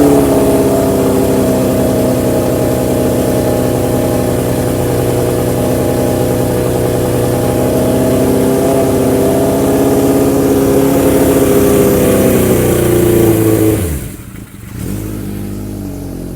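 A 1979 Kawasaki KZ650 motorcycle engine held at about 4,000 rpm, a loud, close, steady drone for roughly fourteen seconds before the revs drop away sharply and it settles back down.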